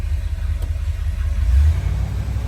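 A 1969 Ford F100 Ranger pickup with a four-speed runs just after a cold start, a close, loud low engine rumble that steadies into idle with a brief swell partway through.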